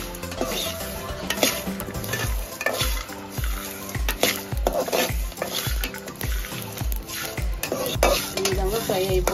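Whole spices fry in a pan, stirred with a metal spoon that knocks and scrapes rhythmically against the pan about once per second over a steady sizzle, close and clear, with no talking.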